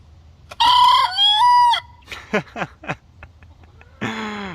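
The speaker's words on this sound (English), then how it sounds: "We thought it was actually Millie who might be crowing" A backyard hen crows loudly and close, giving a full crow followed by a few short clucking calls and then another crow starting, with no talking.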